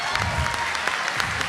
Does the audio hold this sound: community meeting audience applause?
yes